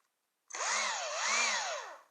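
A 12-volt cordless drill powered by a 14-volt battery whirs up suddenly and runs for under two seconds, its motor pitch wavering up and down before cutting off.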